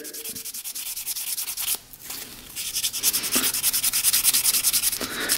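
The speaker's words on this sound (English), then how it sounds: "We're just gonna sand that down a little bit." 800-grit sandpaper scrubs old sticky gas residue off a motorcycle part in quick rhythmic rasping strokes, close and steady, briefly pausing before speeding up again.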